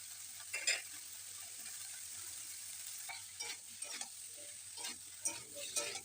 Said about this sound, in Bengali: আঁচ বাড়িয়ে কমিয়ে অনেকটা সময় ধরে ভাজতে হবে